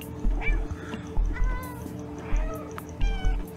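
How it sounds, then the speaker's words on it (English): Several short, rising cat meows from the playable cat in the video game Stray, coming in spaced bursts over a low game soundtrack, with a voice speaking briefly between them. "I hope everyone can hear the meowing."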